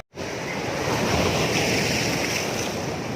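Ocean surf at Jayanti beach in Cianjur, a loud continuous wash of breaking waves mixed with wind noise on the microphone, starting abruptly after a moment of silence.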